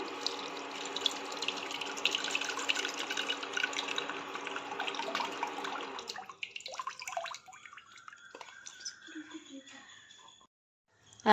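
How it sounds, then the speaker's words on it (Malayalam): Tamarind water is squeezed and poured into a curry dish, a steady splashing pour that runs for about six seconds before thinning to scattered drips and trickles; someone talks over part of it. "ഇനി നമുക്ക് പുളി പിഴിഞ്ഞൊഴിക്കാം"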